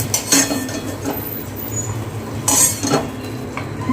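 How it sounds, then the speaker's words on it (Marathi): Crispy fried potatoes lifted out of the pan onto a plate, with clinks of a utensil against metal and a low background sizzle, two sharper scraping bursts standing out, no talk. "ते हे असं प्लेटमध्ये काढून घेऊया"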